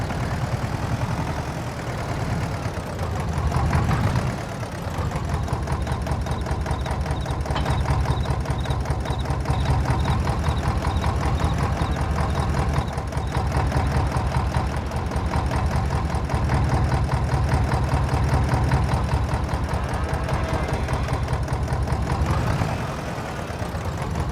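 A tractor engine idles steadily in Farming Simulator 22, with a loud, continuous low rumble and a constant mechanical hum throughout and no talking over it.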